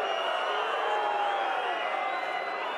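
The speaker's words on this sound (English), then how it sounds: "What's the crowd doing there?" A rugby stadium crowd at a Top 14 match between Toulon and Montpellier, a dense, steady roar of many voices swelling faintly with scattered whoops, heard from a distance without a clear peak.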